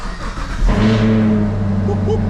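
A Chevrolet Camaro SS 1LE with a manual gearbox fires up from a cold start in neutral, the V8 catching with a loud burst and then settling into a steady, deep, throbbing idle close by.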